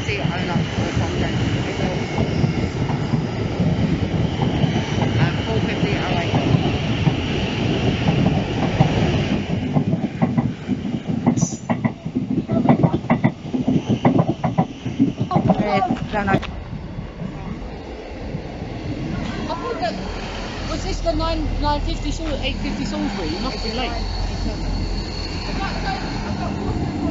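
A Class 450 electric train passes at Clapham Junction station, its loud rumble and clattering wheels sustained for a long stretch before fading into quieter station ambience near the end.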